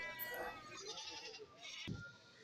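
A goat bleats close by at a goat market in Kerala, a wavering nasal call, followed by a brief thump and faint background noise.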